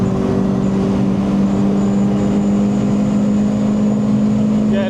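Renault Clio 182 hatchback engine held on part throttle at Thruxton race circuit, a steady loud droning engine note with a strong hum, continuous through the whole stretch with no clear rise in revs.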